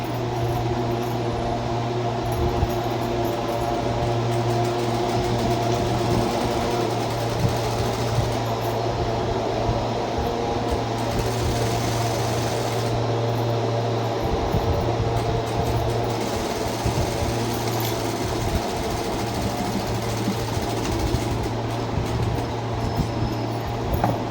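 A sewing machine runs steadily while stitching a blouse lining, a continuous close mechanical hum and rapid needle chatter with brief slowdowns, no talk.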